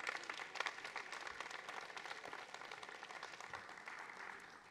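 Sustained applause from a conference audience at a social housing congress as a guest is called up onto the stage, steady dense clapping throughout with no talk over it.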